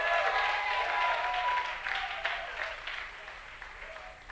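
Church congregation applauding during a Spanish-language sermon, a steady wash of clapping that gradually thins and fades over a few seconds.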